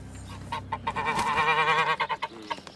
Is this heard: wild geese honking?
yes